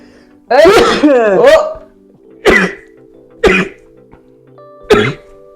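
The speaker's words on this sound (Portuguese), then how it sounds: "Também se espirra, pessoal." A woman gives a short vocal sound, then lets out several sharp, separate sneezes spaced a second or so apart in an indoor chat setting.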